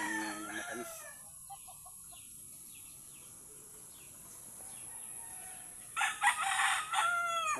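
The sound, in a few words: rooster crowing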